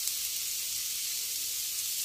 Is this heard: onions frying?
yes